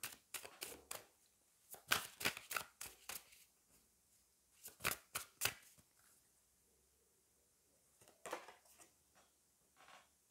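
Oracle cards shuffled and drawn by hand, a run of crisp riffling flutters and snaps in quick bursts, pausing midway and returning near the end, close and alone with no talk.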